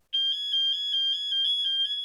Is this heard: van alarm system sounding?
yes